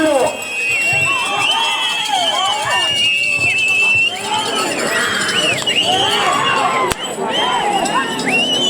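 A large crowd at a bullock cart race cheering and whistling, shrill whistles sliding up and down over a loud continuous roar of voices, with a sharp crack near the end.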